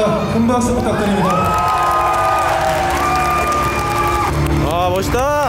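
A crowd at a Korean physique competition cheers, whoops and applauds, the noise steady and loud throughout, with shouting voices and sustained tones mixed in.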